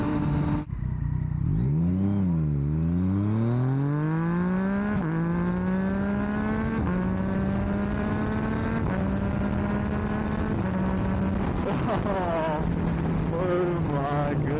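A Yamaha MT-09 motorcycle accelerates hard through several gears, its engine note rising in repeated sweeps with brief dips at each shift, loud and close throughout, with wind noise underneath.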